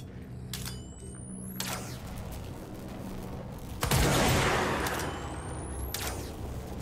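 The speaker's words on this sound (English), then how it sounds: "I kinda like this gun." Gunshots from a weapon in the video game Control, a couple of sharp bursts standing out over a steady background bed of game ambience, with a louder burst about midway.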